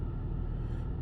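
A Ford Fusion Hybrid car idles with its engine running, a steady low rumbling hum close by with no other sounds or voices.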